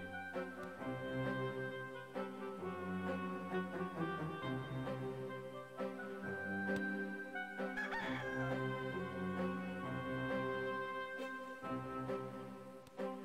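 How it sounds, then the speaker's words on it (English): A rooster crows in the Discworld 2 video game, its call blending into a dense bed of steady game music that plays loudly throughout. "Here's some chicken. Oh, rooster, sorry,"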